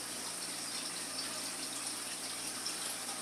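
Water pours steadily into a tank, a continuous faint gushing and splashing hiss with no pauses or voices.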